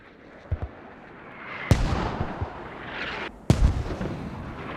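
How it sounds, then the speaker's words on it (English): Mortar rounds in the military shooter Squad land in two heavy booming impacts, the second a few seconds after the first, each with a long rumbling tail over distant battlefield noise and a few smaller pops. "Now CI mortars comes in towards Saddam."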